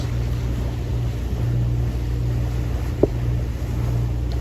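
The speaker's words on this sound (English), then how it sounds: "We're motor sailing. We've got the Genoa out." A sailboat motor sailing under engine with the genoa unfurled in a light breeze in the Banda Sea, Indonesia; a steady low engine drone runs throughout under wind noise, with one brief knock midway.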